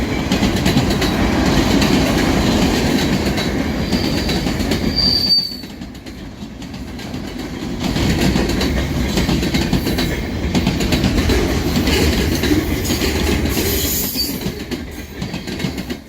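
A freight train on the Lawrence to Portland run passes in New Hampshire or Maine, rumbling loud and continuous with clattering wheels, a brief lull, then squealing wheels near the end and no voices.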